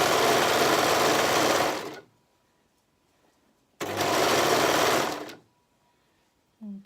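A sewing machine stitching soft fabric for a harem romper runs in two steady, loud bursts of about two seconds each, separated by quiet pauses, with a short third start right at the end.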